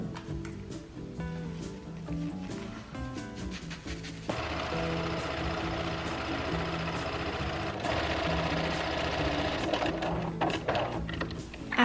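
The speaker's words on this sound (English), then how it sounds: "After sewing my gather stitches" A sewing machine runs gather stitches through shirt fabric from a thrifted button-down, a steady mechanical whir that starts after some light handling noises and keeps going evenly for several seconds, close and alone.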